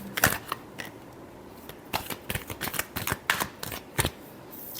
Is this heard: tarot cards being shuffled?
yes